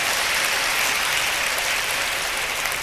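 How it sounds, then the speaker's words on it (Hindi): A live concert audience in Vancouver claps steadily, a dense, sustained wash of applause from many hands that holds evenly throughout with no talk over it. "ज़रा उनके लिए ताली तो बजा दीजिए"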